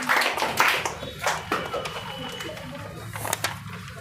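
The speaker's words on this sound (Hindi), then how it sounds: "जोरदार ताली होना चाहिए" An audience at a school event applauds a schoolgirl with a burst of hand clapping. It is loudest at the start and keeps going unevenly, with voices mixed in.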